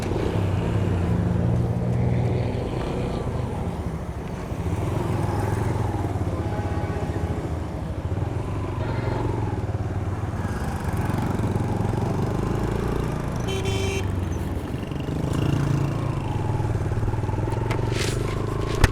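A motorcycle ridden on the road after a crash, with a worn rear tyre and a slightly torn shock absorber, its engine a steady close drone with light scraping and rattling throughout.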